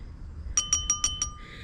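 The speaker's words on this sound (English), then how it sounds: "Now we're going to give it a little bit of a stir to make sure that it's nice and mixed all the way through" A spoon stirs a cocktail in a glass, giving five quick, bright, ringing clinks in an even rhythm, close and clear over a quiet background.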